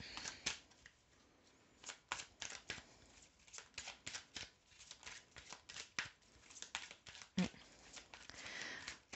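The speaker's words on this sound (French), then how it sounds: "Je vais remettre une carte dessus." Tarot cards handled and placed on a spread, soft papery slaps and shuffling rustles close to the microphone, quiet and irregular.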